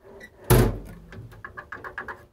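The lid of a US General tool box is shut with one loud metallic thump, followed by a series of lighter clicks and rattles as parts settle.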